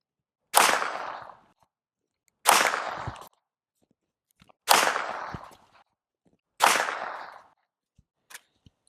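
Four loud, sharp rifle gunshots fired without a suppressor, spaced about two seconds apart, each with a decaying echo tail, followed by a few faint clicks.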